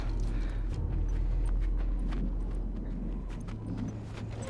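Rapid hoofbeats of a galloping horse pound steadily over a low rumbling background, continuous and fairly close, in the video game The Last of Us.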